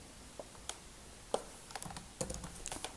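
Keystrokes on a computer keyboard while code is typed for a Python turtle drawing: a sparse, irregular run of crisp clicks, close by, with short pauses between small bursts and no talking.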